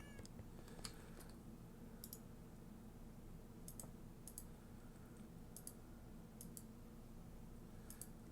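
A computer mouse clicks sharply in short bursts of one or two while Project Ozone 3 is played, spaced irregularly over a low, steady background hum, with no speech.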